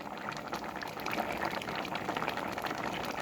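Coconut milk for Thai bananas in coconut milk bubbles in a pot, a steady close simmering and gurgling that carries on without a break and without talk.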